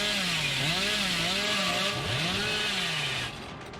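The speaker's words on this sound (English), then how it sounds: "Here we go. Chainsaw." The Hillbilly's chainsaw revs in Dead by Daylight, a loud continuous engine whine that rises and falls in pitch across several sweeping swells, then drops off sharply near the end.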